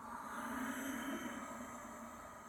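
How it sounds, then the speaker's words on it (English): Soft, steady Ujjayi yoga breath narrowed at the back of the throat, a continuous breathy hiss with a faint whistling edge, held alone and evenly for a couple of seconds. "sweet, silky, whistling Ujjayi breath on the back of the throat"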